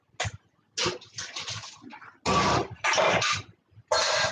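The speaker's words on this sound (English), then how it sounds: "Just dump out this water because, and then I'm going to use that same pot for my potatoes" Water dumped out of a cooking pot into a sink in a home kitchen, heard as several loud, splashing gushes in uneven bursts with short pauses between pours, close by and with no talking.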